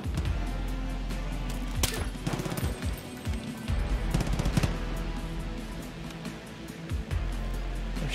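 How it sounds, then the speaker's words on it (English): Dense, sustained automatic gunfire in the video game Far Cry: New Dawn, with loud rapid bursts and scattered heavier blasts that pound almost continuously from start to finish. "Shooting at someone."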